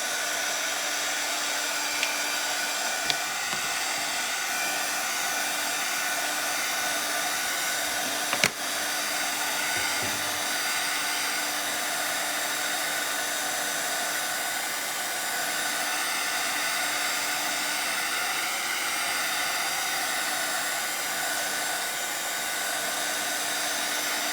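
A hair dryer blows steadily over fresh paint on an address sign before stenciling, a continuous even whir with a single brief knock early on and no talk.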